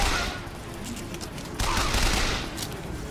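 Gunfire in the first-person shooter Bioshock Infinite, a short burst of shots in a dense, noisy mix of game combat sounds with occasional talk.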